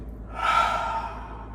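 One deep breath from a simple breathing exercise for releasing pressure and working the belly and ribcage: a soft, airy inhalation that swells and fades over about a second, close and alone.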